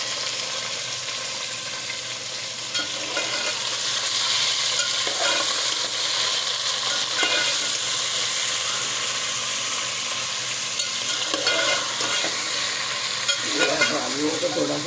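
Half a kilo of potatoes fry in hot oil in a pan with steady sizzling and scraping stirs, no talking.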